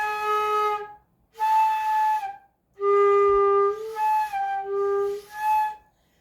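An open-hole flute sounding a G with one open-hole key only partially covered, giving several sustained, airy tones with slight pitch wobbles, separated by short breaks, played solo and fairly close.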